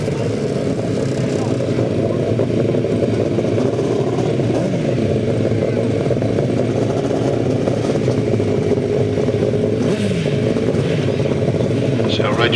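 Several 1000cc sidecar motorcycles race on a grasstrack, their engines a constant loud drone with rising and falling revs, heard under steady commentary from an announcer.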